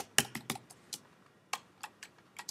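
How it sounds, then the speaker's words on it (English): Keys are tapped on a computer keyboard in short, sharp, widely spaced clicks, close and fairly crisp against a quiet background. "Can I type? It's not letting me type."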